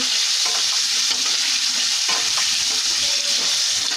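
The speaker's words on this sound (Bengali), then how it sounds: "এখানে আলু ভাজছি" Potatoes frying in a pan in a home kitchen make a loud, continuous hissing sizzle, with occasional soft stirring scrapes running through it.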